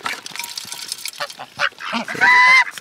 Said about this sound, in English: Now I'm trying to feed the other geese.